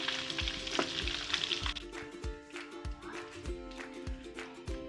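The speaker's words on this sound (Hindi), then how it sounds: "चिकन हमारा फ्राई हो चुका है।" Chicken frying in oil gives a close, crackling sizzle that fades after the first moments, followed by a series of separate soft knocks and clanks as pieces are handled in the pan.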